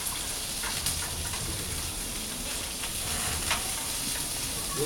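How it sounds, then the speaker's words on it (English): Onion, mushrooms, bacon and peppers frying in a pan give a dense, constant hiss and crackle, close and even, with a few faint stirring knocks and no speech. "we gently mix it until the bacon is"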